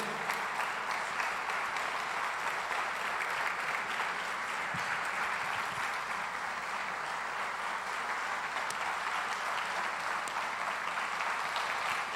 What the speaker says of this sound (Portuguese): Você pode aplaudir a Jesus pela vida dele?